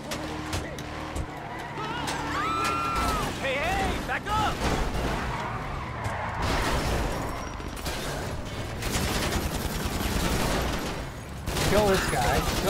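Gunfire in GTA 5 Online during a vehicle chase against a car with bulletproof tires, sharp shots crackling amid engine roar, skids and honks, with someone talking over the action throughout.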